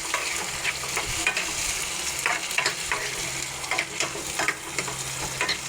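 Chopped tomatoes frying in sesame oil in a pan while being stirred, a steady close sizzle broken by repeated scraping strokes of a spoon, with no voices.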